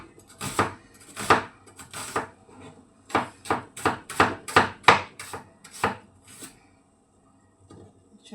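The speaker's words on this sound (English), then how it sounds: "You have to slice them very thinly." Vegetables sliced very thinly with a knife on a board, a close series of crisp, quick chopping strokes in uneven bursts, about a dozen cuts, then a pause and a couple of softer final taps.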